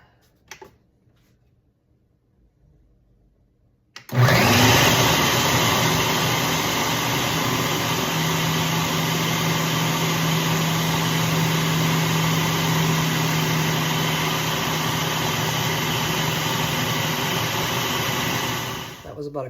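A food processor purees basil pesto with olive oil, starting abruptly after a few quiet seconds into a steady, loud whirring motor roar that runs on for about fifteen seconds.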